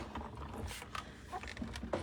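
A hand-cranked die-cutting machine rolls a stamped card through its plates, giving a short run of creaking, ratcheting mechanical clicks and gear noise, close and moderately loud with no talk.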